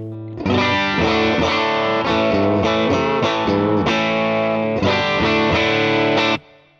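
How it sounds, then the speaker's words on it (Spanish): Electric guitar on its bridge humbucker pickup, played through a Hotone Ampero II Stomp, with a bright, full tone plays a run of picked chords and single notes in a lively riff, fairly loud and alone, ending abruptly. "Así suena el humbucker que está en el bridge."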